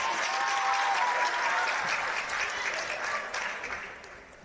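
Cheer squad from the Red Hill Football Netball Club roaring and applauding at a Super Netball reserves match, a dense, sustained wash of crowd noise that eases slightly toward the end.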